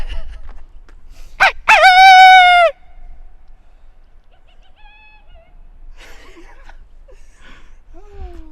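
A wild turkey tom gobbles once on Idaho mountain public land during a spring hunt, a loud, rapid rattling call lasting about a second, followed by quieter distant calls and faint low talk.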